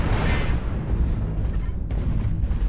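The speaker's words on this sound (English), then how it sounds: "Missiles on me." Missile explosions battering a mech in MechWarrior Online: dense, continuous rumbling booms and crackling impacts, loud and close, with a few sharper hits near the end.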